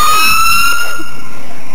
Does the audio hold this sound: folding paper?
no